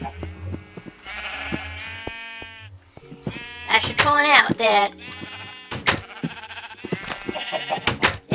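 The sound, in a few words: sheep bleating in a pen, from a Minecraft-style video game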